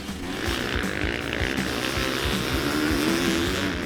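A Yamaha YZ250 two-stroke motocross bike races on a dirt track, its engine buzzing and revving steadily at moderate distance with a busy, crackling exhaust note and no talk.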